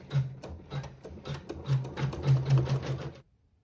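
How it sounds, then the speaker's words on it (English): A sewing machine stitches simple quilting across the top of a fabric block in matching thread, running in short rhythmic bursts of rapid mechanical chatter before stopping abruptly. "Our next step is going to sew some just simple quilting on the top part of this block"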